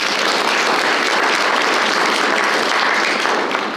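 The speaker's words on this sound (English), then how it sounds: "We'll give him a round of applause." Audience applause at a university history department student recognition ceremony for an absent award recipient, full, continuous clapping filling the room for nearly four seconds before tapering slightly at the end.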